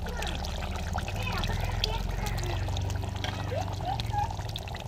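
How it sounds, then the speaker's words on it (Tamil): Water is poured into a pot of mutton curry with ground coconut paste: a steady, close pouring and trickling splash lasting several seconds, with a voice speaking over it. "இப்போ குழம்புக்கு தேவையான தண்ணி சேர்த்துக்கிறோம்"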